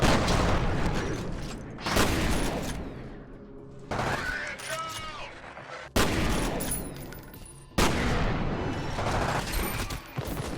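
Shotgun blasts boom in the video game F.E.A.R., several heavy, loud shots spaced a couple of seconds apart, each followed by ringing decay and mechanical clatter, with a voice talking faintly beneath.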